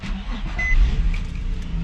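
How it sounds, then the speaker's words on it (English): A car with a manual transmission starting up, its engine turning over and settling into a steady, loud, close idle rumble that fills the whole short moment with no talking. "So to start the car, the clutch has to be in, and then you're just gonna start it."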